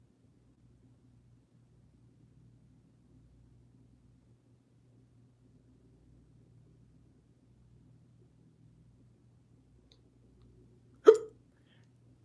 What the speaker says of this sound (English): Apologies, I have hiccups now.